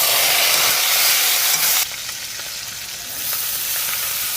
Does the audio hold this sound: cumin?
yes